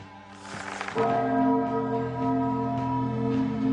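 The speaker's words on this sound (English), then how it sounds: "And now it's chime time." A clock chime rings out, a loud resonant bell-like tone that swells in and sustains with a long ringing decay, heard alone without talk.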